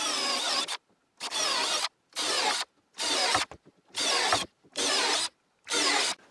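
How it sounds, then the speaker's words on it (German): A power drill bores a series of holes into a wooden workbench. Seven loud, evenly spaced bursts of whirring cutting, each under a second long, are separated by short silences, with no talk. "Hier habe ich jetzt Markierungen gemacht und die bohren wir jetzt mal da rein."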